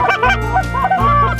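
Late-season Canada geese honk repeatedly over a frozen pond during a hunt, several loud overlapping calls close by, layered into a continuous chorus with no talking.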